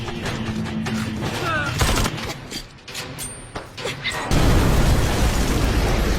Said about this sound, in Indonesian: Sehingga tembak-menembak, jotos-menjotos pun tak terelakkan.